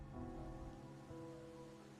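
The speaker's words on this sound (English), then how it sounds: "are you simply passing the time until the rain ends?" Steady rain falls in the video game Wuthering Waves, a soft, even hiss that continues throughout under quiet tonal background music, with no talking.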